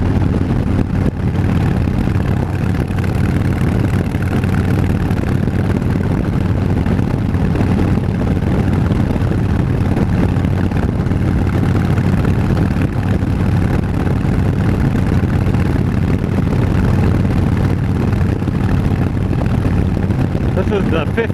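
A Harley-Davidson Fat Bob motorcycle with a 15-inch windshield, heard while riding as a steady, loud low engine drone mixed with wind rush, unbroken for the whole stretch.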